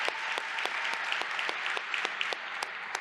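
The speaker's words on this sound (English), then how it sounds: "Yes, please clap it up." An audience at a workplace summit applauds, a soft, distant-sounding patter of many hands with sharper individual claps popping out at irregular moments for about three seconds.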